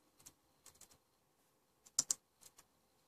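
Light, quiet computer keyboard typing while a search is entered, a few scattered short bursts of key taps with a louder cluster in the middle and brief pauses between.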